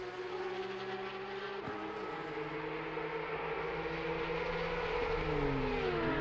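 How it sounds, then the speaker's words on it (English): BMW M2 race cars lap Bathurst in a sim racing game, their thin, buzzy engines droning steadily with rising and falling pitch sweeps, layered like several cars close together, with no talking. "you can hear the little lawnmower engines of the M2s ahead"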